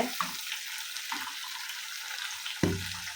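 Green chillies fry in hot oil for a chilli pickle, giving a constant hissing sizzle with a few short clatters of stirring, one louder knock near the end.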